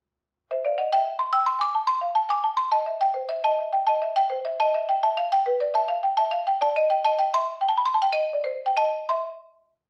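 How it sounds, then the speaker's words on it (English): Bright, hard-edged marimba notes struck in a quick, steady stream, each attack sharp and ringing, played alone for about nine seconds. "They're going to make the marimba sound very bright and very strident, like this."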